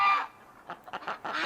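Ducks honk outdoors on a snowy day, a short series of nasal calls in quick irregular bursts at close range, with no talk.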